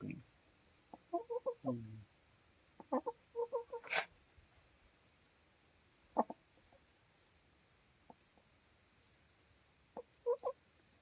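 A hen clucks softly in short bursts while straining to lay an egg, with groups of quiet calls spread over the clip against a faint steady background hiss.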